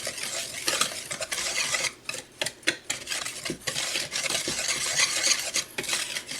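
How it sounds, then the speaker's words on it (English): Pancake mix and sugar are whisked dry in a large bowl, a brisk close rustling swirl with rhythmic scraping strokes and taps of the whisk against the sides, short pauses between bursts, and no talk. "In a large bowl, we're going to take the pancake mix and the sugar and just whisk that together to get any clumps out that might be in there."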